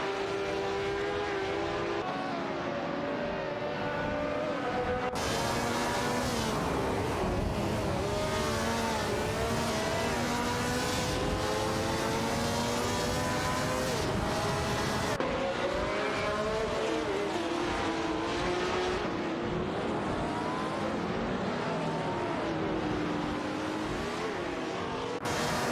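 Virtual race cars, including a Lotus 49 and an F40, scream past in a video game race, with continuous loud engine wails that rise and fall through gear changes and overlapping passes.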